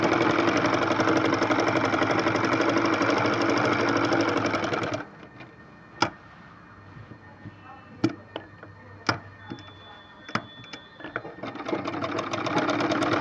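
A sewing machine stitching a neckline runs with a steady, close whir for about five seconds, then stops, leaving sparse clicks and light handling noises before a faint hum returns.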